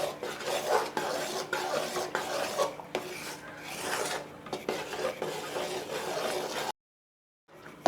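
A thick cashew sweet mixture for diamond cuts being stirred in a pan, a continuous close rasping scrape of the spoon against the pan in steady strokes, ending with a sudden stretch of silence.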